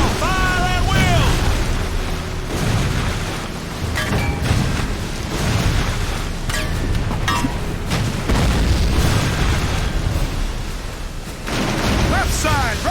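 Heavy booming gunfire and cannon blasts roll through a Civil War naval battle game, loud and nearly constant with repeated deep explosions, while voices shout over the din.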